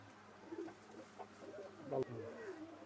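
Pigeons cooing softly inside a loft, low gurgling calls repeating at a faint level, with a quiet background and a brief knock near the middle.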